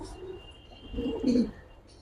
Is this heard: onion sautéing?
no